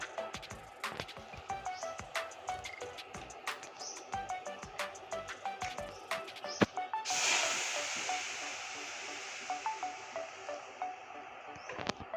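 Water is poured onto fried semolina and vegetables in a hot pan, setting off a sudden hissing rush partway through. Scattered clicks and small pops from the pan come before and after it, and nobody speaks.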